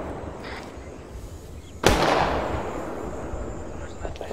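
A single loud gunshot or blast rings out in a military video game firefight, sharp and close, followed by a long rumbling tail over quiet background ambience.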